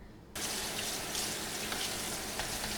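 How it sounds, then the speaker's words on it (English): Cold tap water runs steadily over freshly made homemade boba pearls, a constant close hiss of rinsing water that starts abruptly and continues without pause. "I'm gonna go ahead and rinse those off with some cold water"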